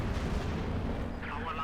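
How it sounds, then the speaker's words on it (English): Dense, continuous rumble of artillery fire from a Sturmpanzer bunker-busting barrage in Company of Heroes 2, heavy low booms blending into one another, with a voice talking over them. "if you know how to use the bunker busting barrage."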